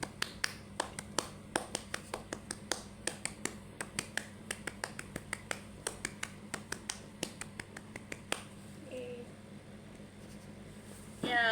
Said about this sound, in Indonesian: mari kita melakukan tepuk pramuka sebanyak 3 kali.